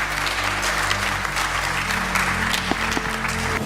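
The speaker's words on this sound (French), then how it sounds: "d'applaudir très fort l'ambassade des États-Unis" An audience at a model UN conference claps loudly and steadily in a sustained burst of applause, dense and even throughout, with a faint hum underneath.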